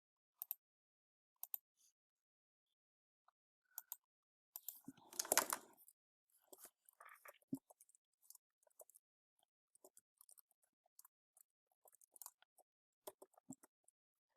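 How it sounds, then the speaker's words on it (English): Scattered, quiet clicks of typing on a computer keyboard to enter numbers into Desmos, single taps spaced out with one brief denser burst, in an otherwise silent room. "Then I want to go ahead and type this into Desmos."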